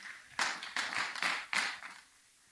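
An audience applauds in a church hall after a call to thank a Garda officer who came to speak, a few seconds of scattered, fairly faint clapping in bursts that fades out at the end.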